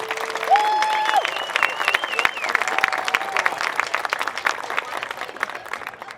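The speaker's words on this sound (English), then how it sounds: "Let's give them another round of applause." Audience applause at a small-town awards night and variety show, a steady crowd clapping that carries through the whole stretch, with a tonal musical or feedback line sounding briefly near the start and faint voices underneath.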